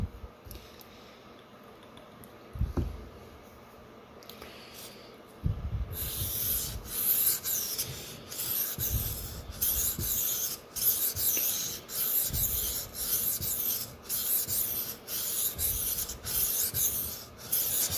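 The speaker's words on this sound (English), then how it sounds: "I'm going to focus with these strokes just on that section right at the heel and get the burr to come up there" A Sabatier paring knife is drawn across a whetstone in a steady series of gritty, rasping strokes, close and fairly loud, repeating about once a second after a few quieter scrapes at the start.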